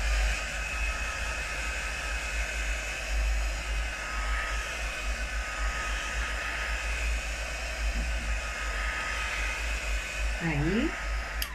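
A hair dryer blows steadily on a freshly painted and varnished frame, a loud constant whooshing drone that runs throughout with little variation.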